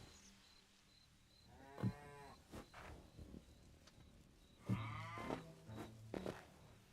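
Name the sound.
cow mooing in the video game Hytale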